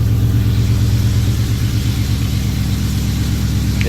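A car engine on a scat swap idles steadily and close by after a new intake manifold install, its low, even rumble running alone without talk in cold Michigan weather.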